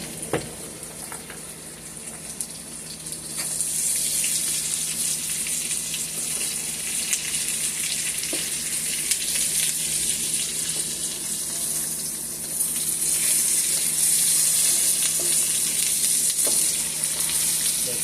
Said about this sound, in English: Tail cooked as well. Everything cooked up.